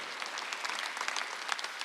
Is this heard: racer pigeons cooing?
no